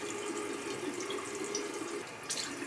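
Running tap water at a bathroom sink during face rinsing in a skincare routine, a steady close splashing wash with a brief stronger gush near the end, no talk.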